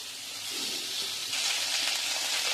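A soft, steady sizzle of cauliflower frying in a pan, stirred now and then, grows slightly louder as it goes on. It stays fairly faint and close.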